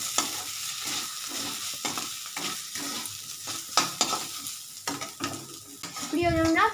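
Chana dal sizzling in mustard oil while a spatula stirs it steadily, scraping the pan in repeated close strokes over a continuous fry, without speech.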